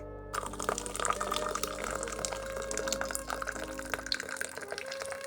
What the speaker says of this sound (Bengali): এখন বাসন ধোয়ার পালা